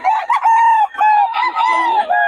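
Chickens and roosters at a gamefowl gathering in Bocaue crow in loud, overlapping calls, close by, with no talk over them.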